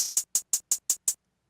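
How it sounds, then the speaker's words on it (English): A closed hi-hat sample from a drum kit plays in FL Studio with the out knob down, six evenly spaced crisp hits with slightly ringing tails, then silence. "This is the 3rd hi-hat in the Undeniable drum kit. So without any out, it sounds like this."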